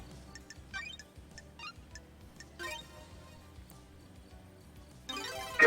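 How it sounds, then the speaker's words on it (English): A phone rings in the video game Paradise Killer, a repeating electronic ringtone with chiming tones over a quiet musical backdrop, ending in a louder burst. "Oh, I'm hearing a phone."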